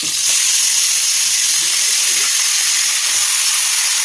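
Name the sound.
chicken frying in hot oil in a wok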